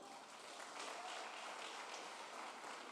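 Church congregation clapping for the Lord during a Portuguese-language sermon, a steady wash of many hands heard from a distance, even and fairly faint across the whole stretch.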